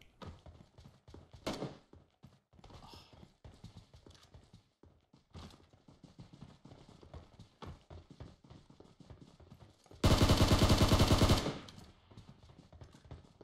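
Gunfire in PUBG Mobile: a loud, rapid burst of automatic shots lasting about a second and a half, following a stretch of quieter rhythmic tapping steps.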